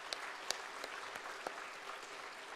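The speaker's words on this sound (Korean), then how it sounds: "우리 청년들에게 격려의 박수 한번 보내주시죠." A church congregation gives a round of encouraging applause for its young people, a steady wash of many hands clapping at moderate distance, fairly soft, with a few sharper individual claps standing out.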